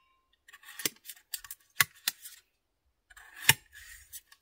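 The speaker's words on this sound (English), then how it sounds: "I'm going to use my little pan from my mess kit here and cut up my tater." Knife cutting a potato in a small mess kit pan outdoors, a series of sharp scraping clicks and taps in uneven bursts, close and fairly quiet.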